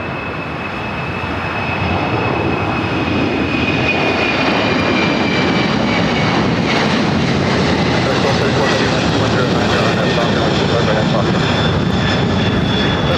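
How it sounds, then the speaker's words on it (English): A FedEx Boeing 767 jet taking off from runway 25 left at Los Angeles International Airport, a loud, steady broadband engine roar that builds in the first seconds and then holds with a faint whining tone across the whole span. "FedEx 767 taking off, 25 left."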